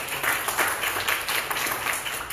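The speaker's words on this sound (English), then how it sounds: "let's give them a big round of applause this morning" A Sunday morning church congregation in a Baptist worship service claps together. The applause is a dense, sustained burst of many hands throughout, with no speech over it.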